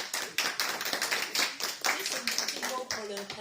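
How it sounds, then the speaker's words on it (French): A church congregation applauds the pastor at a Sunday service, a dense spatter of hand claps that runs steadily throughout, with voices talking over the clapping. "On applaudit le pasteur"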